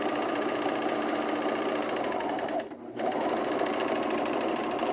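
A sewing machine runs a tension test on a V-neck coat, a close rapid mechanical whirring that stops briefly partway through and then starts up again at the same steady pace. No one speaks.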